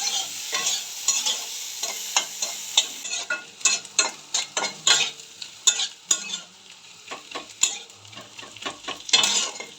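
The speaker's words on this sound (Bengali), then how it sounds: "এবার নাড়াচাড়া করে আমি লাল লাল করে পেঁয়াজটা একটু ভেজে নেব" Onions fry in a little oil for a puti fish dish while a spatula stirs them. Repeated scraping strokes come in an uneven rhythm over a soft, close sizzle, with no voices.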